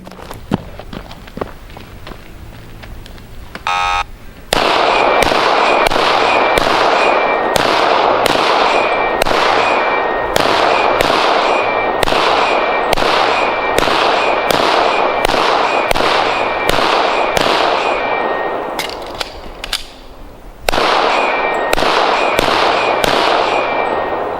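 Rapid gunfire hits steel AutoTargets on a range at SHOT Show, a loud, dense string of sharp reports with ringing metallic pings that runs nearly nonstop for about twenty seconds, with one short break.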